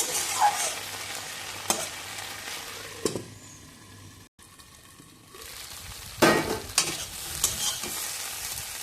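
Potatoes and okra fry and sizzle in a pan for aloo bhindi, with repeated stirring scrapes and a steady hiss that briefly quiets midway, then returns louder with sharper scraping strokes.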